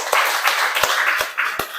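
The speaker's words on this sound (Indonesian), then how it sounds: "Silakan tepuk tangan untuk teman kita" Students in a classroom clapping their hands, a few sharp, fairly close claps spaced irregularly over a soft background of scattered clapping and murmur.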